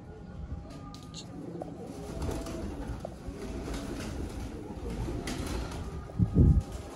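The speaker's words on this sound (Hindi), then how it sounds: "ओल्ड सियालकोटी कबूतर।" An old Sialkoti pigeon coos softly, its low murmuring call rising more clearly near the end amid faint background noise and light wind.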